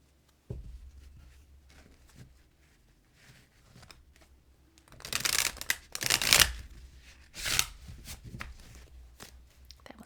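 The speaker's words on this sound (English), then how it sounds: "That was really good shuffle." Tarot cards being shuffled by hand indoors, with quiet rustling, then louder riffling bursts of card flicks around the middle and again near the end, faint and close with no talk.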